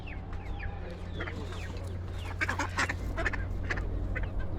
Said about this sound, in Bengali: হাঁস, দেশি হাঁস, চীনা হাঁস